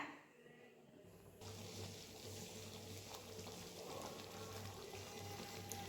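Steady bubbling and simmering of a pot of chicken and potato curry on the stove, a continuous soft liquid rumble that picks up after the first second and holds.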